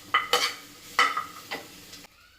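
Pork and ginger are stirred in a pan with a spatula, making several sharp scraping strokes over a low sizzle before the sound cuts off; no one speaks.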